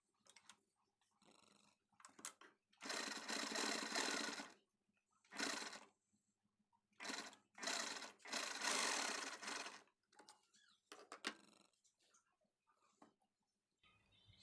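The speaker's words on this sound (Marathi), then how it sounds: "स्टिच टाकून घ्यायची." A sewing machine stitching a blouse sleeve runs in several bursts of a few seconds each, with brief pauses and small handling noises between runs. It is close and fairly loud, and no one speaks.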